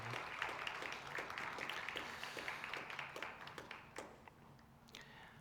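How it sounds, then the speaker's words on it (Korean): Church congregation applauding to bless a deaconess as she leaves the front, soft distant clapping with a steady rhythmic patter that fades toward the end. "여러분 큰 박수로 축복해"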